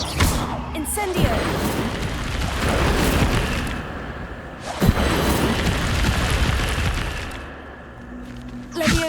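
Incendio fire spells cast in the video game Hogwarts Legacy: loud, close blasts of roaring, crackling flame that surge and fade, with fresh bursts around the start, middle and end.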